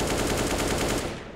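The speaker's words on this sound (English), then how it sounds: "The spraying through is gonna get the wall bang." Rapid automatic rifle fire sprays through a wall in a CS:GO esports match, a dense, continuous burst of rattling shots that fades out at the very end, with no talk over it.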